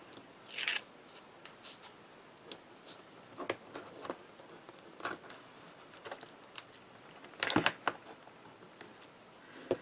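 Scissors snip through paper for a handmade Christmas card, with scattered quiet cuts and rustles at an irregular pace and a few louder snips, close by in a quiet room with no talking.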